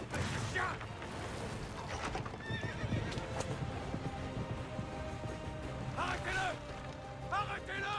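A horse in Assassin's Creed Revelations whinnies and neighs several times over steady clip-clopping hooves, with creaking mechanical game sounds in the mix.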